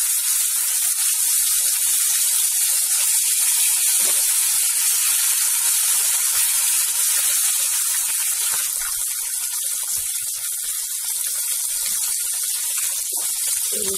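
Fish pieces fry in hot oil for a fish biryani, giving a loud, steady sizzle that hisses on without a break and with no talking.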